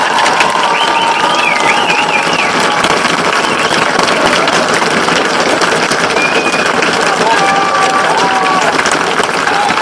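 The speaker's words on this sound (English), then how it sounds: "how about another round of applause for the class of" Graduation audience at Northport High School applauds the class of 2021 with a dense, sustained roar of clapping, cheers and whistles filling the venue throughout, voices mixed in.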